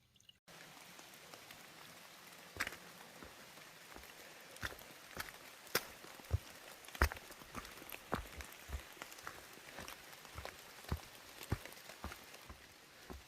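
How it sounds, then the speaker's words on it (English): Rain falling during a storm on the Appalachian Trail, steady patter with scattered louder drops and taps hitting nearby surfaces, fairly soft and continuous. "Rainstorm."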